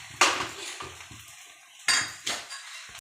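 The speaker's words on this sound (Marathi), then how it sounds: "आता आपण त्याच्यावरती आमलेट टाकून घेणार आहोत." Utensils clatter against a pan while an omelette for an egg paratha is spread out and cooked, with about four sharp metallic knocks and scrapes spaced across a soft frying hiss.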